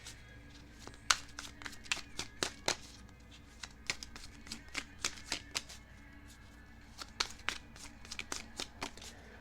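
Tarot cards being shuffled by hand, a run of crisp riffling snaps and flicks in irregular bursts, close and fairly quiet, with a voice speaking softly at times.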